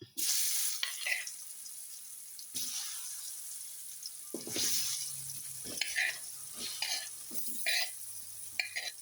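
Loud, steady sizzle of dry mango pieces frying in boiling oil for pickle, with scraping stirs and occasional clinks, no voices.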